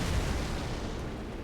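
An explosion attack in Elden Ring on Xbox, heard as a dense, rumbling blast that is loudest at the start and then settles into a sustained roar fading slowly, with no talking.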